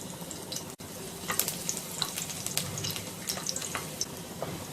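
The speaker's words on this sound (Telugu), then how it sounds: "ఆయిల్ వేడైన తరువాత వెల్లుల్లిపాయ ముక్కలను వేసుకొని వేయించుకోవాలి" Garlic pieces fry in hot oil in a kadai, a close, lively crackling sizzle with frequent scraping stirs and spatters after a brief break near the start.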